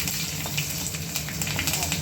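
Garlic and five-spice seeds fry in hot oil with a loud, close, continuous sizzle and quick popping crackles, over a low background hum.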